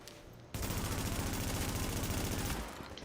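Sustained rapid gunfire bursts in The Division 2 starting abruptly and hammering evenly for about two seconds before cutting off, loud and close.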